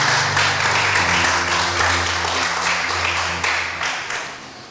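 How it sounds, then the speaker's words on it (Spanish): A church congregation bursts into sustained applause that stays dense and loud, with a steady low musical drone underneath, before it gradually fades. "Usted puede dar un fuerte aplauso al Señor en esta noche."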